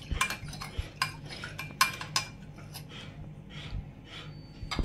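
A spoon stirring black salt into water in a bowl, heard as quick, repeated close clinks and scrapes of metal on the bowl, busier at first and then softer and more spaced out.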